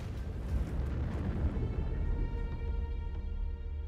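A Javelin missile strikes a Russian armored vehicle, setting off a heavy explosion, a deep rumbling blast that decays over several seconds with faint scattered crackles.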